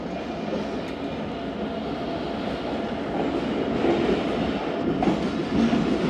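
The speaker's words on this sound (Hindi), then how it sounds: "दस मिनट लेट दोस्तों ट्रेन रवाना हुई हमारी साहिवाल रेलवे स्टेशन से।" Allama Iqbal Express passenger train pulling out of Sahiwal railway station, a steady close rumble of the moving train with faint rail clatter building slightly over time, no talk.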